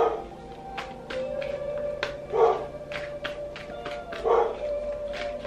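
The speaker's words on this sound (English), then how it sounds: "Apologies for my dog." A dog barks and whines indoors in a few short, moderately distant bursts, with a couple of louder yelps among softer tonal whimpers over a quiet room background.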